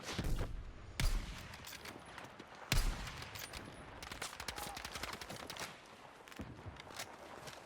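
Faint sniper rifle gunfire in Battlefield 6, a few sharp shots and scattered rapid bursts over a busy background of clatter and movement.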